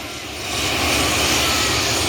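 Helicopter engines and rotors start up at an independence anniversary air show, a loud, steady roar building over the first second, then holding as a broad, continuous whine and rush, close and alone with no voices.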